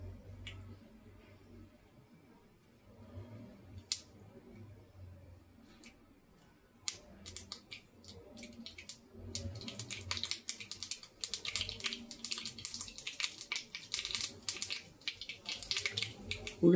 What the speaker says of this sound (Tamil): எண்ணெய் காஞ்ச உடனே கடுகு கொஞ்சம் போட்டுக்கோங்க.